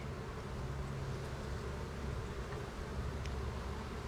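Honey bees buzzing at a hive, a dense continuous hum from many insects close by, steady and fairly quiet throughout.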